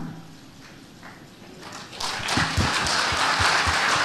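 Audience applause at a lively question-and-answer session: quiet room tone gives way to a swelling wave of many hands clapping, dense and fairly loud, with rhythmic thumps underneath.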